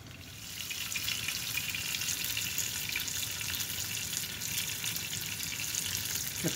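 Prosciutto-wrapped Atlantic cod sautéing in a pan, a steady, even sizzle that holds unbroken throughout with no one speaking.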